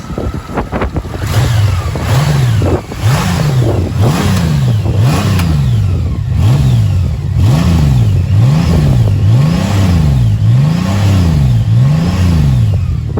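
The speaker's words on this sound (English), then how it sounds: "So yeah, flat 6 engine, 125 horsepower, 170 newton meters of torque, and they just sound the business." A Honda Goldwing Tour DCT flat-six engine is revved again and again, up to a dozen rising and falling blips in a steady rhythm, loud and close.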